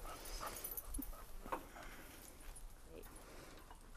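A dog gives a few short, high whimpers and yips in a room while people talk nearby, the cries brief and scattered across the moment.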